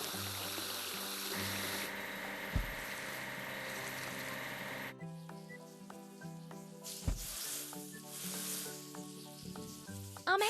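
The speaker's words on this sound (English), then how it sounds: "We need to wash the locomotive." Water spraying as a locomotive is washed in a trains video game, a steady hiss running for several seconds over cheerful looping game music, with brief splashy bursts later on.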